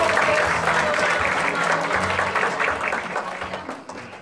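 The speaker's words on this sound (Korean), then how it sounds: "다시 한번 우리 축사해 주신 세 분한테 뜨거운 박수 부탁드리겠습니다." Audience applause at the founding event of a Korean labour rights centre: a full hall clapping steadily and warmly, strong at first and gradually thinning out toward the end, with no speech over it.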